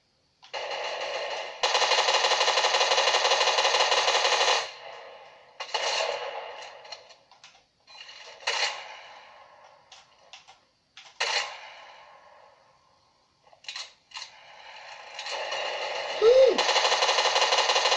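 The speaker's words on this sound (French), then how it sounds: "Voilà ce que c'est une tourelle." A turret machine gun blazes in Fortnite, loud sustained bursts at first, then broken into shorter volleys and scattered single shots separated by quiet gaps, before a final long burst near the end.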